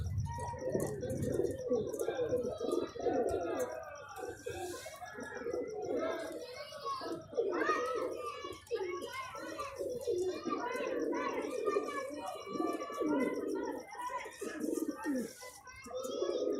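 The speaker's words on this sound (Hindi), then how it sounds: "ये कबूतर देखें, ये कबूतर सबज चीना कबूतर है" Pigeons, including a green pigeon, coo softly and steadily in the background, with a few chirps mixed in, while a person talks over them throughout.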